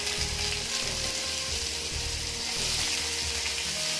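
Onion and cumin sizzle loudly in hot ghee for a tadka, a dense steady crackle that runs without a break, with faint stirring scrapes underneath.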